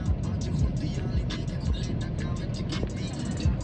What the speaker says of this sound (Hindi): but there is so much traffic